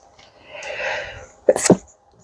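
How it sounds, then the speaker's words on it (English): A single person sneezes loudly and close by, a sharp burst with a quick double release, after a quieter stretch of breathy rustle; no talk overlaps it. "I'm so sorry, I sneezed."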